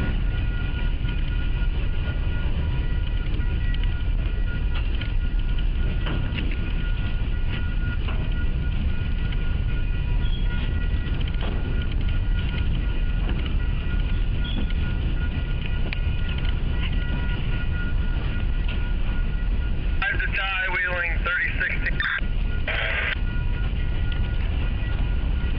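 A Wheeling & Lake Erie freight train shoving cars onto a siding track near Jewett, Ohio, a steady low rumble of rolling railcars throughout, with a brief squealing burst partway through.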